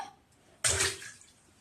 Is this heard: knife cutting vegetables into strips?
no